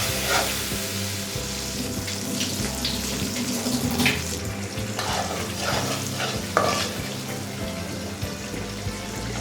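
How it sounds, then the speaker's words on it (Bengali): Spice paste of salt, ginger paste, turmeric, coriander and chilli powder sizzles as it is sautéed and stirred in a pan for lau chingri, with a steady frying hiss and scattered scraping clicks. "মশলাটা কষানো হয়ে গেছে"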